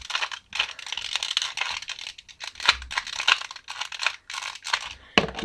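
A 2x2x2 Rubik's cube being scrambled, a rapid run of dense plastic clicks and clacks from close by, continuous with brief pauses, no talking.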